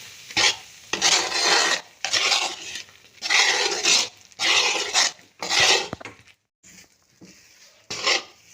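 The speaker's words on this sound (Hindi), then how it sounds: "आहिस्ता आहिस्ता से हमने कपगीर को, चम्मच को हिलाते रहना है ताकि हमारा हलवा कढ़ाई में नीचे जल ना जाए।" A spoon scrapes and stirs atta halwa with jaggery in a wok, producing loud rasping strokes in repeated bursts of about a second each, separated by short pauses, with no voices.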